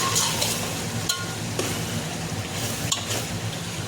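Chili-tomato paste fries in a pot, giving a soft continuous sizzle with a few sharp stirring clinks and scrapes, close and fairly quiet, with nobody talking.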